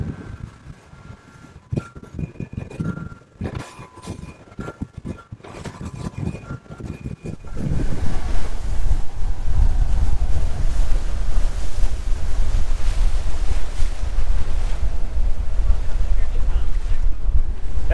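Loud, steady wind roar buffeting the microphone on a moving 23-foot Hurricane deck boat, with water rushing underneath; a few quieter moments with voices come before the wind picks up.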